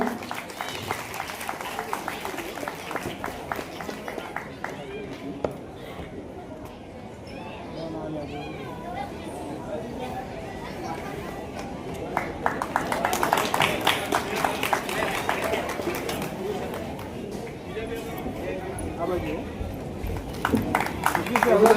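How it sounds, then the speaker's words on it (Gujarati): An audience claps for Bhumiben at a student honour ceremony held by a Prajapati youth development association in Anand. The applause is a dense, steady patter that swells louder midway and carries on throughout. "ભૂમિબેન માટે જોરદાર તાળીઓ"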